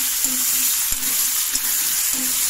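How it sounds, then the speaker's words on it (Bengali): Turmeric, chili and curry spices for a fish and potato curry sizzle and fry in a pan, a steady close crackle broken by a few stirring scrapes. "এখন সুন্দর করে ফ্রাই করে নিতে হবে"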